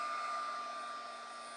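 A hair dryer blows on wet stamping ink on a paper tag, a steady close whooshing roar with a faint whine, held without pause.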